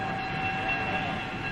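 Passenger train, a steady broad rumble of rolling wagons with a sustained whistle-like tone running through it, continuous and fairly loud throughout.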